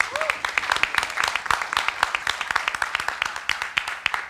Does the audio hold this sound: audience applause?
yes